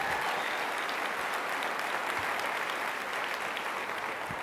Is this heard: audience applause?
yes